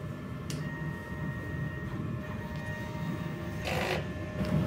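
A DTF printer runs a print head cleaning cycle, giving a low mechanical whir and hum with a few brief sliding and clicking movements, quiet and close, with no speech.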